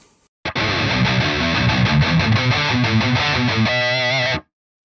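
Electric guitar run through a free Neural Amp Modeler amp capture and pushed by a tube screamer boost, playing loud, continuous distorted chords and riffs for about four seconds before stopping abruptly.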